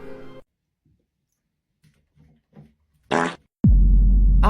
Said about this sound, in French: Qui a pété?